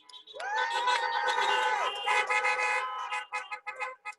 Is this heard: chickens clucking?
no